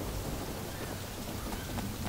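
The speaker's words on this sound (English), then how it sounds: "I mean, it's rain." Steady rain falls in the open-world video game Sleeping Dogs, a dense even hiss filling the whole moment without breaks, with no voices over it.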